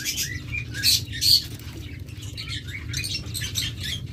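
King quail at a bird farm, with short high chirps and squeaky calls popping up several times over a low steady background hum and faint rustling, nearby and without voices.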